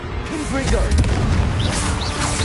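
Confringo fire spell blasting in the game Hogwarts Legacy, a dense booming burst with crackling impacts, heard close and loud under shouted spell voices and music.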